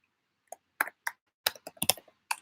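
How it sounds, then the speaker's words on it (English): Someone types a short word on a computer keyboard: a handful of crisp, separate key clicks in an irregular rhythm, close and fairly quiet against silence. "I will type in my city."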